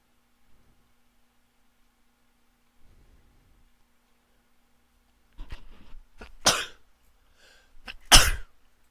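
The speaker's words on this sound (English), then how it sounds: "I was trying not to sneeze" A person holds back a sneeze in a quiet room, letting out a few faint muffled bursts before two sharp, loud coughs or stifled sneezes close to the microphone, each one short and separated by silence.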